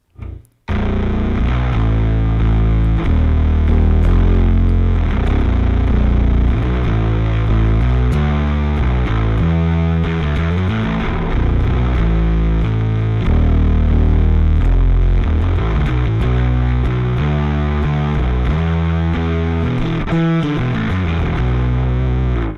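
Heavily distorted bass guitar through a Darkglass distortion pedal plays a continuous, driving riff with thick, gritty overdrive, loud and upfront with no voices.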